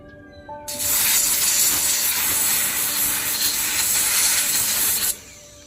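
A Makita pressure washer blasts water in a sustained, loud hissing spray that starts abruptly, holds steady for about four and a half seconds, then cuts off, with faint background sound before and after.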